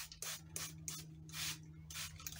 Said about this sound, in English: I'll start off by spraying water on my hair like so